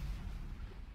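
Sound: missile explosion in video game Starmade

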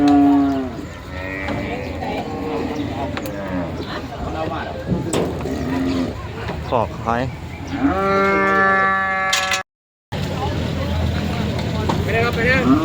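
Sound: cattle mooing at a livestock market

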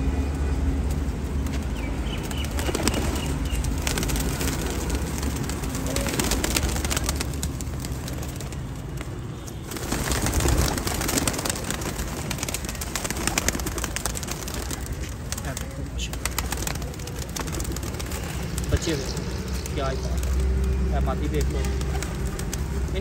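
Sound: pigeons cooing and flapping

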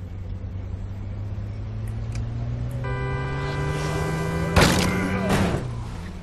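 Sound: car being wrecked in the video game State of Decay

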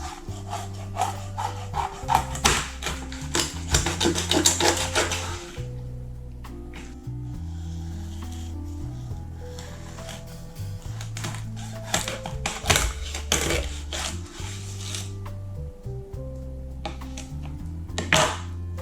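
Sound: knife cutting salmon into steaks

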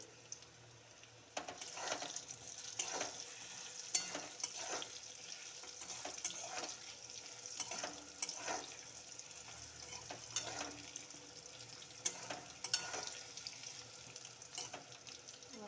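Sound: stirring turmeric into frying food in a pan

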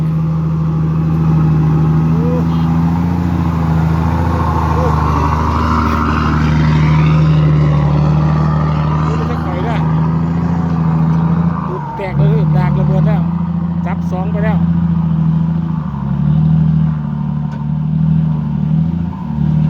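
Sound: engine revving

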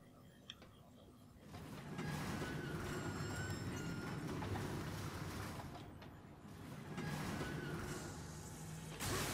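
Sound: train in the video game Darksiders

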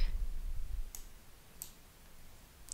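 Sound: mouse click triggering a request

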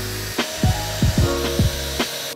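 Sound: drilling holes in wood

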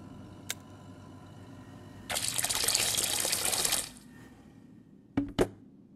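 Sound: water splashing as a photo is put in water, video game

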